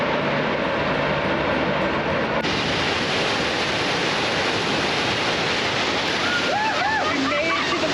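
Waterfall near Telluride, a loud continuous roar of falling water heard up close, with a voice breaking in briefly toward the end.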